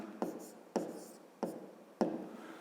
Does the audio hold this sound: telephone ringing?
no